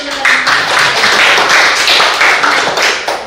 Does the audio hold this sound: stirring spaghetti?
no